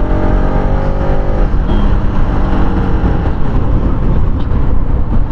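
A Yamaha R15 motorcycle out on a ride, its engine roaring loud and steady throughout with strong wind rush and a slight pitch shift early on, no talk.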